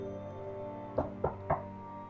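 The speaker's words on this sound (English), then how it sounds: "He holds his hand up to the door and hits it 3 times." A hand knocks on a door three times in a slow, even rhythm, each rap sharp and fairly close, set against a steady low hum.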